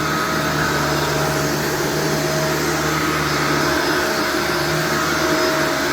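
A Shark Vertex vacuum cleaner runs steadily and loudly in a room being prepared for carpet shampooing, its constant motor whine and airflow roar unbroken for about six seconds with no talking.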